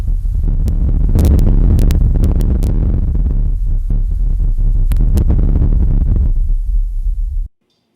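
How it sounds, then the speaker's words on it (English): Wind blowing across the surface of Mars picked up by a rover, a steady rumbling rustle with gusty swells over a low rover hum, continuous and close, cutting off abruptly near the end. "the rustling you heard was actually wind blowing across"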